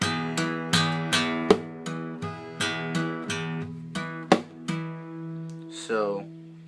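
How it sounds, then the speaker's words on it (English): Acoustic guitar played percussively in a smack, hammer and tap pattern, repeated as a slow steady rhythm of sharp string slaps and hammered notes with ringing tones, close and moderately loud, ending in a brief scrape. "smack, tap, smack, smack, tap, and then hammer"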